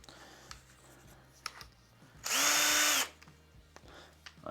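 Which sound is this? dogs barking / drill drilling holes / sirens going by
drill drilling holes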